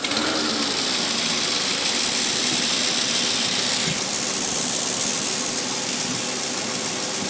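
A Ford 8N tractor engine runs on propane, holding a steady, continuous drone at an even idle throughout, close and loud, with no talk.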